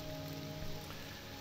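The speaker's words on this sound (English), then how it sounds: "it's raining outside." Rain falls steadily outside as a soft, continuous hiss and patter at a low level, with no voices and no change in intensity.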